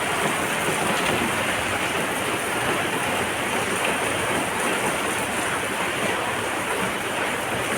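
A downpour of heavy late-night rain roars continuously, thick broadband hiss and drumming on nearby surfaces, steady and loud with no talking over it.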